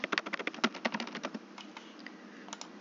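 Rapid, steady keystrokes on a computer keyboard as a title is entered, a dense run of close clicks that thins out into a few scattered taps, quiet and with no speech.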